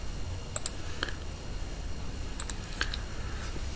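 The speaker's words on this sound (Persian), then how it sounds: "باز اینجا فرمول خود را تایپ میکنیم" Typing on a computer keyboard while entering a spreadsheet formula: a few sparse, crisp key clicks in scattered pairs over steady background hiss, close and moderately loud, no voices.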